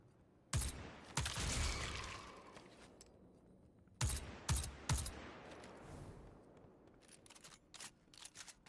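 Bursts of gunfire from Destiny 2: The Witch Queen as moths are shot, loud sharp volleys in separate clusters broken by short quiet gaps, with a scattered run of single shots near the end.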